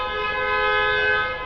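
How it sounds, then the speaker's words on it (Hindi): A vehicle horn blares outside in one long, steady, tonal honk that holds loud and unbroken for the whole moment, with no talking over it. "यहाँ पे हॉर्न की आवाज़ आ रही है"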